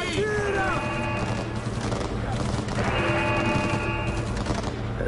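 Gunfire in the video game Cyberpunk 2077 on PlayStation 5, a dense rattle of shots and crashes running under a loud, busy game soundtrack with tonal music, with excited talk over it.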